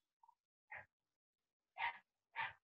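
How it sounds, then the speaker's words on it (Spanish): A small dog barks three times in short sharp yaps over an otherwise silent open microphone during an online class, preceded by a faint brief squeak. "Y ya está un perrito ladrando."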